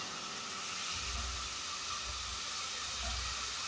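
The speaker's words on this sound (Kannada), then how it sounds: "ಕಾಲು ಲೀಟ್ರ್ ಮೊಸರಲ್ಲಿ ಅರ್ಧದಷ್ಟು ಮೊಸರನ್ನ ಹಾಕೊತೀನಿ." Curd is poured into hot oil in a pot while mushroom biryani is cooked, and it gives a steady, broad sizzling hiss with a few low thumps beneath it. It sounds close, with no talking.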